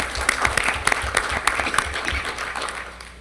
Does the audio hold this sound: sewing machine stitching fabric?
no